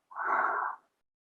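One loud, breathy ujjayi exhale rushes out for just under a second, a steady hissing, throaty airflow with no talking.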